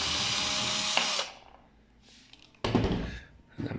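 A power screwdriver whirs loudly as it backs screws out of an LG microwave oven, cutting off after about a second, followed by a quiet pause and then clatter and handling noise.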